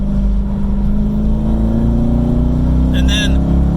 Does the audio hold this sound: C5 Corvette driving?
yes